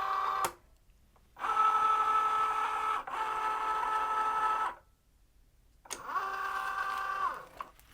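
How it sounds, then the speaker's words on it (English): Cricut Joy cutting machine loading its cutting mat, with two bursts of steady motor whirring separated by a short pause, followed by a third whir that rises and falls in pitch, close and fairly quiet. "so now we loaded our mat on our Cricut Joy"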